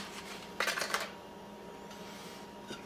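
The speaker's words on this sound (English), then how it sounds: "you want to remove the foil." Foil is peeled off a yeast pack, giving a short burst of close crinkling and tearing, then quiet with a faint rustle at the end.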